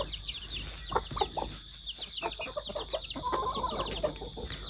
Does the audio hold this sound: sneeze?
no